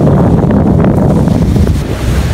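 Rough surf rolls in at a beach on Carnaza Island, loud churning waves mixed with gusty wind buffeting the microphone, continuous and close, with no talking.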